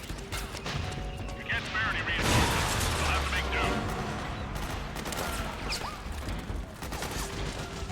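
Gunfire in the video game Metal Gear Solid 4, rapid volleys of shots and mechanical clatter running continuously over a dense game soundscape, with a heavier blast partway through.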